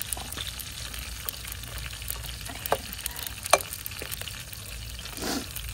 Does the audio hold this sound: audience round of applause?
no